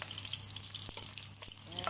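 Garlic fries in a pan for egg fried brown rice, giving a steady close sizzle with a couple of brief scrapes or taps. The sizzle runs continuously and no one speaks.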